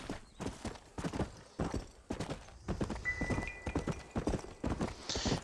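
In the Red Dead Redemption video game, a horse's hooves clip-clop in an uneven rhythm close by, mixed with snorts and a neigh, and no one talks.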